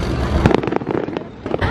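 Fireworks go off outdoors during a summer fair evening, a quick cluster of sharp crackling bangs and pops over under two seconds, with some background voices mixed in.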